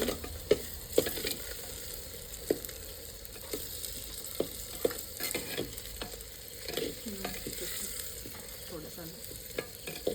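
Khichdi with potatoes being sautéed in a clay pot over a village wood-fired stove, a steady sizzle with repeated scraping stirs and soft knocks against the pot throughout.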